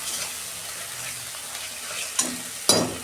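Dried red chillies frying in hot oil in a pan, a continuous crackling sizzle with two sharper spatters near the end, close and fairly loud, with no talking.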